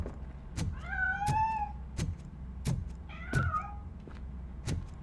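A cat in the video game Robocop: Rogue City meows twice, drawn-out and rising, among several dull thumps and knocks, with a low steady hum underneath.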